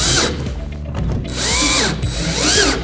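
A power drill drives screws into a NorthPoint base corner cabinet during assembly, loud close bursts of whirring with rising and falling pitch, briefly pausing between runs.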